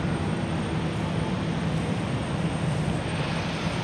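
Airplane making a low pass over an airport runway, a loud, steady engine roar that fills the whole stretch without pause.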